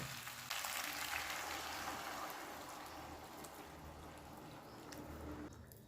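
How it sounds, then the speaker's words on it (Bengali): Hot water is poured into soybean curry in a pan, making a steady rushing, gurgling hiss that fades slightly and stops abruptly near the end. "এবার দেব পরিমাণ মতো গরম জল।"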